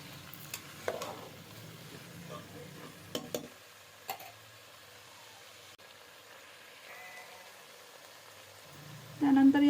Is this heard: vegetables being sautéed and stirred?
yes